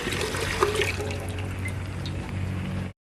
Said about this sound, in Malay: Kita masukkan 2 liter air.